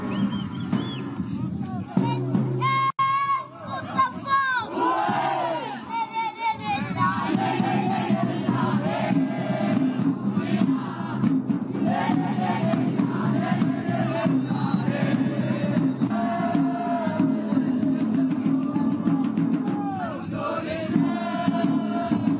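Football supporters in Morocco chant and shout together in a stadium, with a loud rhythmic mass of voices carrying on steadily throughout and some nearer individual shouting.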